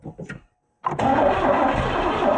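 An old Camaro engine, found in a barn after sitting 32 years, is cranked with the throttle blades open. Brief sounds come first, then a pause, then loud, sustained cranking that continues to the end.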